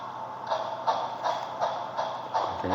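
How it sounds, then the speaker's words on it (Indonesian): Digital-sound toy steam train reversing under phone control, giving a regular chuffing pulse about three times a second, close and moderately loud, with a faint low hum beneath. "Keretanya udah mundur."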